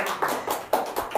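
Audience applause at a community policy forum, a short run of a few hand claps in quick rhythmic bursts, fairly close and moderate in loudness, with no talking.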